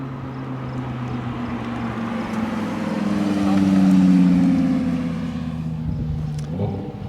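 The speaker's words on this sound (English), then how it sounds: "this is a 2022 R8 V10 Performance with the 3-inch valved stainless steel exhaust system" A 2022 Audi R8 V10 Performance with a 3-inch valved stainless steel exhaust passes by, its engine note swelling to a loud, close peak mid-way and then fading, with no talk over it.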